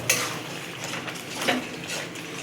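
Prawns being stir-fried in a pan for Bengali chingri malaikari, with metal spatula scrapes and clinks against the pan, soft and close, repeating in short strokes.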